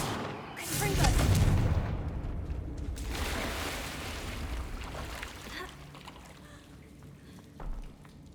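A fiery Confringo blast spell in Hogwarts Legacy goes off with a loud booming burst, followed by a second crackling rush of energy and rumbling decay, with a smaller thump near the end.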